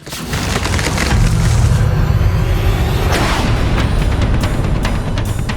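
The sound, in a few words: part of a statue breaking and falling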